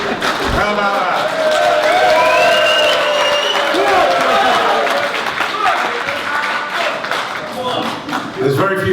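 Audience applause and clapping at a London boxing press conference for a heavyweight bout, a steady crowd wash lasting several seconds with voices talking over it.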